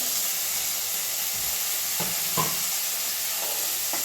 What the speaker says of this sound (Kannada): ಈಗ ಜೋರಾಗಿ ಸ್ವಲ್ಪ ಉಳ್ಳಿಗಡ್ಡೆ ಫ್ರೈ ಆಗ್ಬೇಕೀಗ